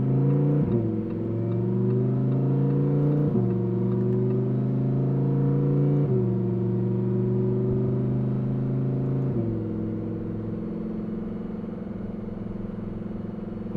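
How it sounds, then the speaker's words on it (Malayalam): A Lamborghini sports car in Corsa mode revs steadily upward through several gear shifts, each change marked by a sudden drop in pitch before the engine climbs again, heard from inside and fairly loud. "ഇനി നമ്മൾ ഗിയർ ഷിഫ്റ്റ് ചെയ്യുമ്പോഴുള്ള സൗണ്ട് ഇങ്ങനെ കയറി പോകണം."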